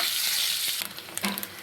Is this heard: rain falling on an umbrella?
no